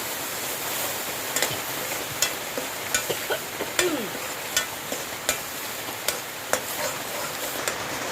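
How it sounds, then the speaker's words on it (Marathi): Roasted onion and coconut masala paste fries in a pan for a Marathi fish dish: a soft constant hiss with regular sharp spatula taps and scrapes, close by and without speech. "कांदा खोबऱ्याचं जे भाजून आपण वाटण केलेलं ते आता घालूया आणि हे वाटण पण छान परतून घ्यायचं"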